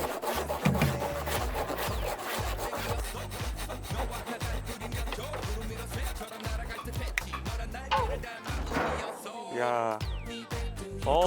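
Rapid, rhythmic sawing through wood, strokes steady and close, with brief pauses and some rubbing noises near the end.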